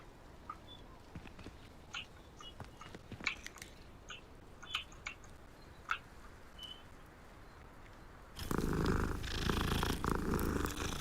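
A cat in the game Hogwarts Legacy purrs steadily and close by for most of the stretch, with soft mouth noises and small clicks over it, before a louder wash of sound swells in near the end.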